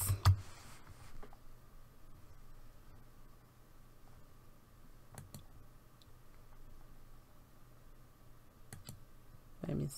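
Soft clicking of keys on a computer keyboard as a short word is typed for a digital cardmaking design, a few isolated taps near the start, middle and end over a quiet room hiss.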